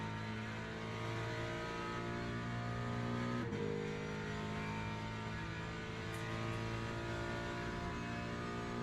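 Race car engine in Le Mans Ultimate, a steady, loud sustained drone holding high revs through a lap, with a brief shift dip midway and no talk over it.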